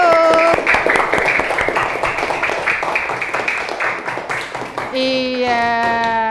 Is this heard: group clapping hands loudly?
yes